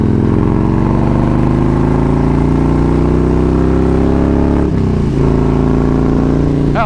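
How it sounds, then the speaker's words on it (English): A Harley-Davidson Road King motorcycle engine drones loud and close, rising steadily in pitch, then dips briefly during a smooth gear change before pulling on again. "How smooth that gear shifted right there."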